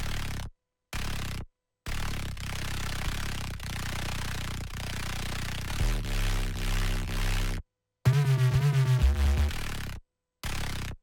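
A fuzzy Massive X synth line on the Funky Donkey preset plays in short phrases broken by silent gaps, shifting into buzzy sustained tones with wobbling pitch, loud and upfront.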